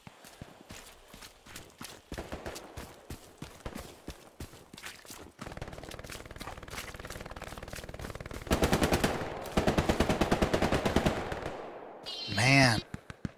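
Gunfire in a multiplayer shooter on the Hill 400 map: dense, close bursts of automatic fire with scattered single shots, growing into long sustained rattles, then a brief voice near the end.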